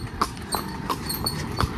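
Horse hooves clip-clop in a slow, regular walking rhythm on a cold morning ride, several distinct, moderately close steps.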